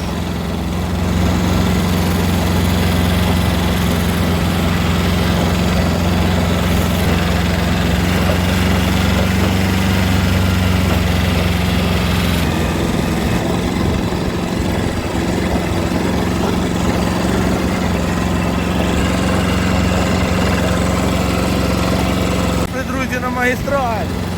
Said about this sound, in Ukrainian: тракторець наш дерчить